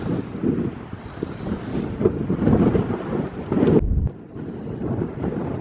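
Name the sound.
strong wind on the Newport waterfront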